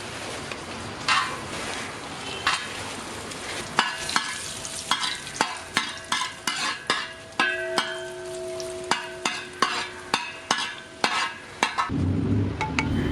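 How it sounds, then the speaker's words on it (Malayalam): Cashews and black raisins fry in ghee in an uruli with a steady sizzle, broken by a run of sharp metallic scrapes and clinks as a spoon stirs them against the vessel. "നെയ്യ് ഒന്ന് ചൂടായി വരുമ്പോൾ അണ്ടിപ്പരിപ്പ്, കറുത്തമുന്തിരി എന്നിവയിട്ട് നന്നായിട്ടൊന്ന് വറുത്തെടുക്കാം."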